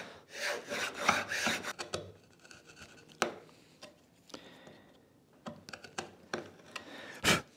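A hand plane cuts a rebate in wood for a dovetail drawer, making rasping, scraping strokes that come in close bursts with quieter ticks and pauses between them.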